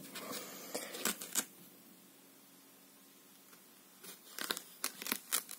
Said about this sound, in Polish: Założę papier 120 i czyścimy.